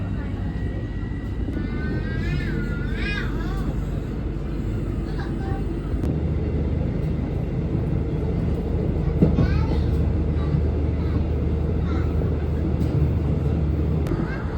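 Train ride on the way to Jogja: a steady, loud rumble of the moving carriage fills the whole stretch, with faint voices and brief chirpy sounds drifting over it.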